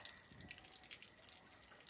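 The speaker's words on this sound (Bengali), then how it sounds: "এই জলে ভিজিয়ে নিলাম, দেখো একদম নরম হয়ে যাবে।" A dish scrubber soaks in water, giving a faint, soft trickling and sloshing with small drips, close but quiet, and no one speaking.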